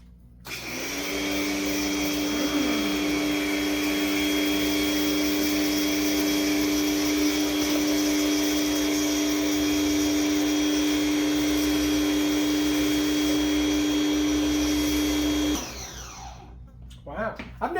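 Dextra pressure washer motor starting up and running with a loud, steady, high whine and a constant tonal hum for about fifteen seconds, then cutting off and spinning down to near quiet.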